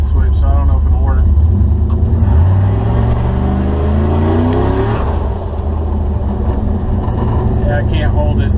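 A modified car with a two-step launch limiter tied to the brake light switch accelerates hard from a standstill in a zero to sixty run, engine note rising steadily over several seconds and then shifting, loud and close with constant road roar.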